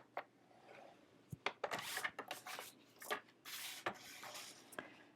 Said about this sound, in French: Je vais faire mon petit pli à 9 cm.